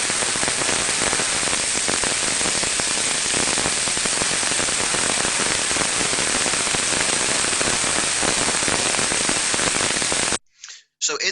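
Ultrasound of a machine bearing in the early stage of physical damage: dense, loud crackling over a steady hiss, with sporadic, non-uniform pops continuing for about ten seconds before cutting out.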